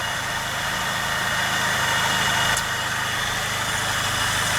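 A repaired Nissan car engine idles steadily, a continuous mid-low hum with a regular pulse and one brief sharp click midway, heard close up without speech.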